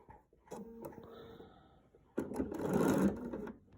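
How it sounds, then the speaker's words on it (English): A sewing machine runs in two short bursts of steady stitching along a straight seam joining a quilt's beauty border, the second run louder and more rapid, with the needle mechanism chattering close by. "Let's back stitch here. All right, here we go, straight down."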